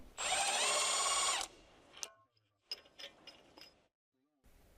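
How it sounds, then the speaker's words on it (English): An electric impact wrench with a 13mm 12-point socket loosens bearing mounting bolts on a 2013 Jeep Wrangler JK: one loud, close whirring burst, then short clicks and faint mechanical knocks before quiet. "Using a 13mm 12-point socket with a short extension and an electric impact wrench, loosen the bearing mounting bolts."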